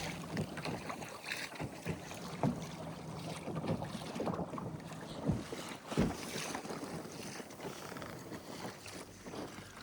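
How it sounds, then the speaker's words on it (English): A trolling motor drives a kayak at one notch below full speed out on the sea at Christchurch Bay in the UK, a steady hum mixed with water splashing against the hull and gusts of wind buffeting the microphone, with no talking. "Got the trolling motor on, not the full speed, but just one below full speed"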